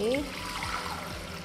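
Water pours into a cooking pot for soaking soybeans, a short continuous splashing trickle heard close up with no talk over it.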